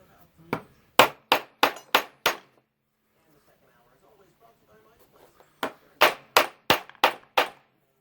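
Hammer blows strike a handmade 1-inch round end punch during a forge test, two quick bursts of five or six sharp, ringing metallic hits with a quiet pause and faint murmuring between them.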